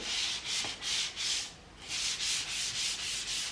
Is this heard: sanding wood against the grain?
yes